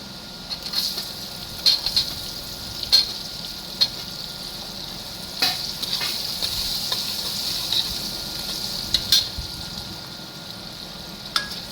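Onions and whole dried red chillies fry in hot oil for a Rajasthani malai pyaz sabzi, giving a steady, fairly quiet sizzle with occasional sharper crackles and pops scattered through.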